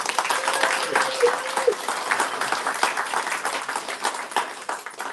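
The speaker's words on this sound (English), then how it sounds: "A huge round of applause for them, please" An audience gives a warm round of applause for the competitors at an afternoon arts festival court, a dense, steady wash of clapping lasting throughout, with a brief whistle-like tone near the start.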